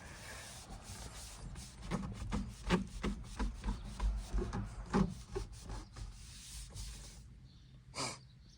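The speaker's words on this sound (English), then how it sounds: "I'm just going to wipe the top right here." A cloth rubs and wipes across the top of a leather steering wheel in a Volkswagen MK7 GTI, giving close, soft, irregular swishing strokes that rise and fade over several seconds.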